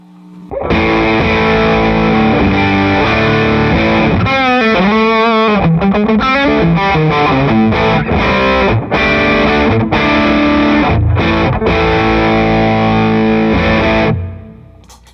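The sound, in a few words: electric guitar through distortion pedal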